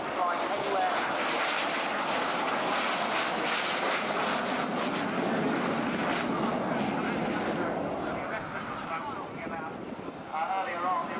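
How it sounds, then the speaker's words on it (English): A Hawker Sea Hawk naval jet in 806 Naval Air Squadron colours roars steadily and loudly overhead, a broad continuous engine rush that eases slightly toward the end, with voices faintly underneath. "She's the only Seahawk flying anywhere."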